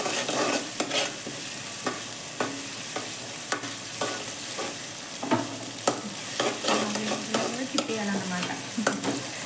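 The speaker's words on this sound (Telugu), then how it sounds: "అల్లం వెల్లుల్లిని ఇలా ఫ్రై చేసుకోవాలి." Ginger and garlic paste fry in a pan with a steady sizzle while a spoon stirs and scrapes, close and continuous with occasional clinks.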